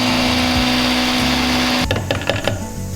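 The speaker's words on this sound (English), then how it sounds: "We dry roast them and then we grind them to fine powder." A kitchen grinder whirs as it pulverizes dry-roasted masala spices into fine powder, a loud steady high-pitched motor drone that cuts off near the end, leaving a few clattering knocks.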